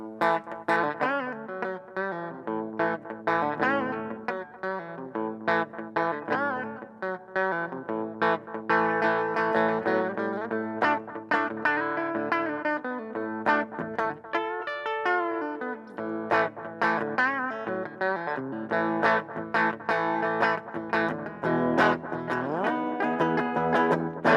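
Distorted electric guitar riff through an Orange Tiny Terror amp with the tone set fully to treble, bright and trebly, chords and single notes played continuously at steady loudness.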